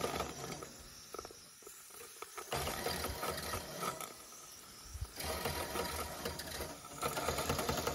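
A Wilesco D141 toy steam engine (D141/66) starts up and runs, giving a faint, steady hiss with a quick mechanical chatter that swells and eases, heard alone without talk.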